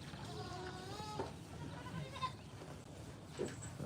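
Baby goats bleat in short wavering cries, several calls spaced over a few seconds against a quiet outdoor background at a homesteading festival.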